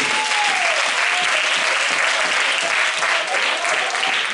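A church congregation at a Mother's Day honoring service claps and praises, a loud, unbroken roar of hand claps filling the room, with a faint held tone in the background.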